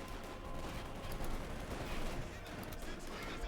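Sustained heavy machine-gun fire from a .50 cal in the World War II strategy game Company of Heroes 2, a dense continuous fusillade of overlapping bursts with a person talking over it.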